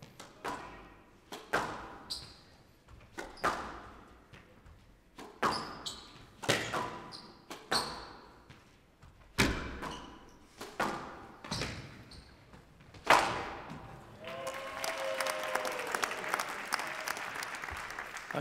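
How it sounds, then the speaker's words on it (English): In a professional squash quarterfinal, the ball is struck hard again and again in an echoing rally of sharp, evenly spaced cracks and thuds, followed by a swell of crowd applause at the end. "Willstrop was certainly loosening up there, firing the ball in"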